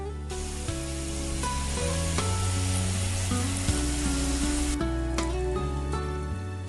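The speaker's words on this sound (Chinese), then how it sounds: "每一面都煎2分钟左右，煎至6面金黄" Glutinous rice cubes pan-fry in oil in a steady, continuous sizzle that runs the whole time beneath a melodic backing track.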